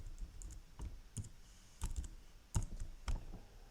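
Fingers type a password on a computer keyboard in short, quiet bursts of sharp key clicks, uneven in rhythm, close by, and with no talking.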